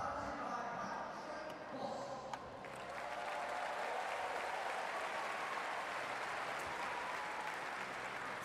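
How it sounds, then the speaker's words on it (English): A packed velodrome crowd at the 2012 London Paralympic track cycling applauds athletes from around the world: broad, steady clapping and crowd noise filling the hall, with a brief dip before swelling again and holding. "the crowd being generous in their praise of athletes from right around the world"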